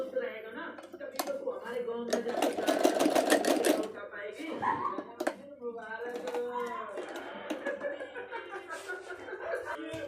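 A sewing machine runs a stitching line along the fitting seam of a suit in short bursts, one loud rapid run in the middle, while someone talks over and between the stitching.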